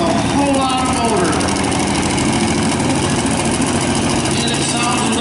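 A twin-turbocharged truck-pulling engine in a 2005 Chevy Silverado body at a county fair modified two-wheel-drive truck pull roars loud and steady, with a rising whine early on and an announcer's voice over it.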